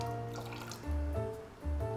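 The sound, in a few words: little water poured into blender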